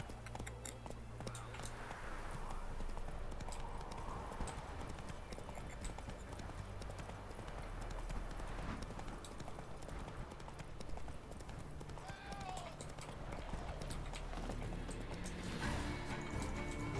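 A horse trotting in the video game The Witcher 3, with a steady run of hoofbeats under music and ambient game sound, faint throughout.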